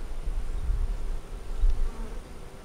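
Honey bees buzz steadily at an open hive during winter sugar feeding, a close, continuous low drone that swells and fades, with no talking.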